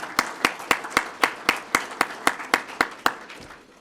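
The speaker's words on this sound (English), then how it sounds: "I ask the officers in the room to please join me in giving your family members a round of applause" Police officers applauding their family members at a swearing-in ceremony, a single clear clapper in an even rhythm near the front, about a dozen sharp claps, over a faint crowd clapping behind.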